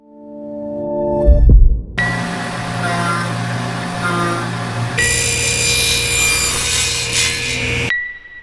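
A power saw cuts MDF boards for a workbench frame in a workshop. The blade whirs up, then rasps loudly and steadily through the sheet, and the pitch shifts partway before it stops abruptly.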